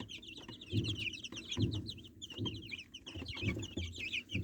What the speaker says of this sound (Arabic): هي الفراخ البلدي معروفه بكده، اللي هم يعني ما بيسكتوش